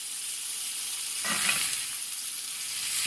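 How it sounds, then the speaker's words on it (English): Onion slices grilling in a pan for a meatless burger, a constant bright sizzle with a brief louder crackle and stir near the middle, no speech. "I'm going to grill this for about 5 minutes on each side."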